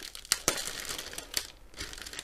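A sealed plastic bag from a diamond painting kit is peeled open, giving a few sharp crinkles and crackles amid softer rustling, close and moderately quiet.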